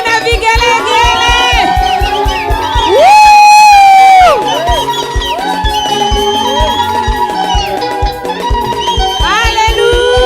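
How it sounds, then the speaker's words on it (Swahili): A congregation at a monthly prayer gathering cheers and ululates loudly over rhythmic drumming and singing, with a sustained high trilling cry rising above the music midway through. "wapi shangwe na vigelegele"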